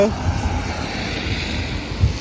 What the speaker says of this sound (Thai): ฝนตกน้ำไหล